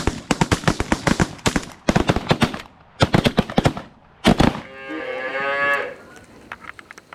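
Rapid shotgun volleys crack loud and close during an early-season goose hunt in New York, several bursts of shots in quick succession, followed by honking geese.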